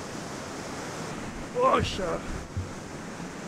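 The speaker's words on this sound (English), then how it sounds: "it's too loud to talk into the microphone because of the water" Loud ocean waves and surf roar continuously at the shore with heavy wind buffeting the microphone, and someone briefly speaks midway over the noise.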